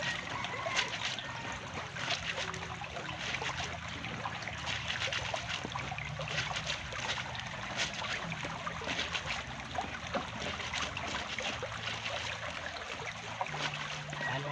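A creek flows steadily and quietly, a continuous trickling and babbling of water with no voices over it.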